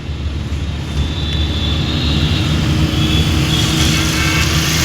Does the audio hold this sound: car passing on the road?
yes